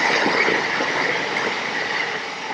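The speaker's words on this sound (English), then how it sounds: "Oh, hang on, train." A train passes continuously near an outdoor running spot, a steady loud rushing roar of wheels on rails that fades slightly toward the end, with no talking.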